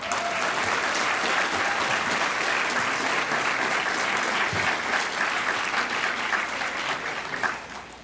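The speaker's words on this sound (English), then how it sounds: "Let's give them all a round of applause." Sustained applause fills a hall at an annual general meeting's opening ceremony as honorees are recognized, a steady wash of many hands clapping, moderately loud and even throughout before tapering slightly at the end.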